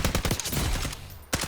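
Rapid gunshots from the video game Call of Duty Warzone fire in a quick burst of close, punchy reports, then pause briefly before another shot snaps at the end.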